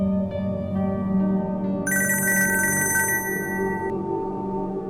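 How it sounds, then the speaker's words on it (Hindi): A bright electronic phone ringtone trills for about two seconds over a steady droning film score, close and clear. "देखिए फोन बज रहा है।"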